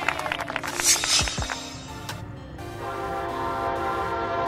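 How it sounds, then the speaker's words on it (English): A commuter train passes with a short horn blast and rumbling wheels, followed by a steady rolling rail noise that grows fuller as the carriages go by, heard at moderate distance. "Commuter train."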